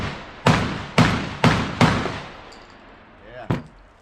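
Five loud, sharp gunshots from a Charles Daly Honcho tactical semi-auto shotgun fired on a range, four in quick succession about half a second apart, then a pause and a final shot, each with a ringing decay.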